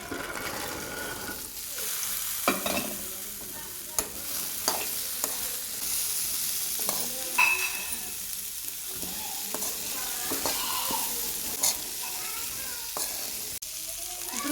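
Boiled chickpeas with curry leaves and turmeric sizzle in a pan while a spoon stirs them. Repeated knocks and scrapes sound over a continuous frying hiss, close and fairly loud, without speech.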